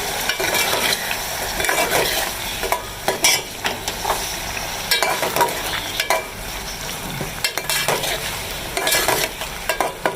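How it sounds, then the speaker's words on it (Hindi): Masala with crushed chillies, turmeric, salt and green chillies stirred in a frying pan, a steady close sizzle broken by repeated scraping strokes of the spoon against the pan, with no talking. "अब हम इसे मिक्स करेंगे।"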